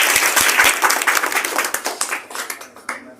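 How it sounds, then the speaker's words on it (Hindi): Audience applause at a school farewell event for a Class 10 batch: dense, fairly close clapping that starts strong and gradually thins and fades over about three seconds. "इनके लिए जोरदार तालियां।"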